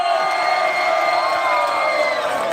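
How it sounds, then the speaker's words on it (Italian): Live concert crowd at a Tufara event, a steady wash of cheering, whoops and shouts filling the whole stretch, loud and continuous without a break. "Fate un applauso!"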